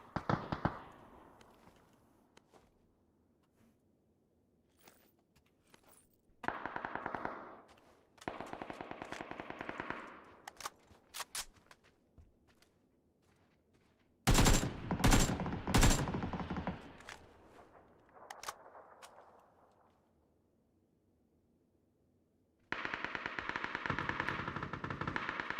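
Gunfire from a gun in the video game Backpack Battles: rapid bursts of shots come in separate loud clusters, with quiet gaps between them and a long sustained volley near the end.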